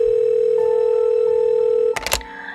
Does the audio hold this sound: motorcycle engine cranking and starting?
no